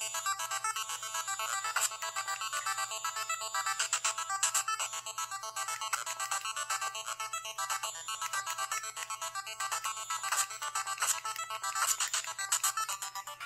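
An Evercade retro handheld console plays its startup jingle, a bright, busy electronic melody that runs steadily for over ten seconds at moderate volume, with a faint constant hum underneath and no talking.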